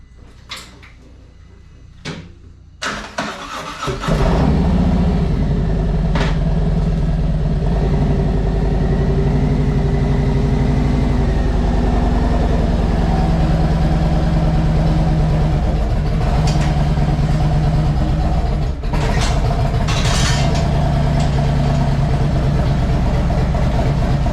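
A 2023 Harley-Davidson Street Glide starts up after a few knocks and clunks, then its engine idles loudly and steadily close by for the rest of the clip, with a deep throbbing rumble and no talk.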